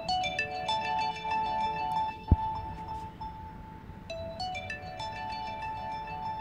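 Bounce ringtone on a Huawei Watch running Android Wear 1.5: a bright, bouncy electronic melody of short stacked tones with a sharp click midway, playing alone throughout.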